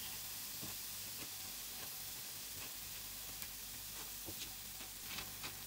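Potato-stuffed kuzhipaniyaram frying in a pan, a faint, steady sizzling hiss with small scattered pops and crackles throughout, no voices.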